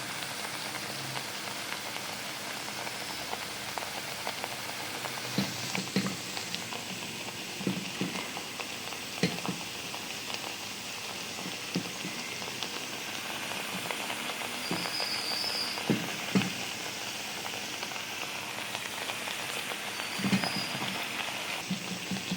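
Milagu vada, peppery lentil fritters for temple prasadam, frying in oil over a medium flame: a continuous rain-like hiss with scattered bubbling crackles and soft knocks, close and even, with no speech.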